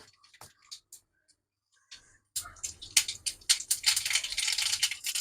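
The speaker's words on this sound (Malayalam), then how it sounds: "കടുക് പൊട്ടിയിട്ടുണ്ട്." Mustard seeds popping in hot coconut oil in a home kitchen pan, a few scattered crackles at first, then a dense, close burst of rapid spattering pops that keeps building.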